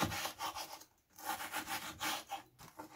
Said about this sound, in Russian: Сначала нарежем мелкими кубиками филе курицы.